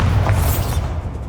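The Bombarda spell goes off in Hogwarts Legacy, a loud, dense blast with a rushing burst that decays quickly within about a second.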